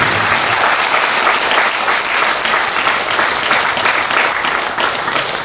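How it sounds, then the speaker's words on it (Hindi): A large audience at a spiritual talk claps loudly and continuously, a dense, close roar of applause held steadily throughout with no speech. "जोरदार से तालियां बजाएंगे"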